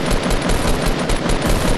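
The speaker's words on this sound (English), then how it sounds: "That's one shot." Rapid automatic gunfire in Fortnite, a loud continuous burst of closely spaced shots with a steady rattling rhythm and no talking.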